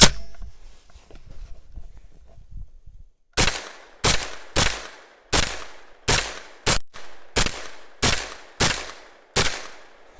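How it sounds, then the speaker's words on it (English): Ten shots from a 9mm side-charging 10.5-inch Foxtrot Mike FM9 AR pistol fed by a factory Glock magazine, sharp loud reports in a steady rhythm about half a second to a second apart, fired outdoors after a quiet stretch. "we're going to try another 10 rounds with a factory Glock mag, same ammunition"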